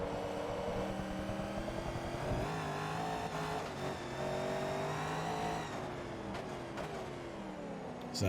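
A 1967 Corvette Stingray races in Forza Motorsport 2, its engine droning and shifting pitch through gear changes and revs, moderately loud and alone with no talk.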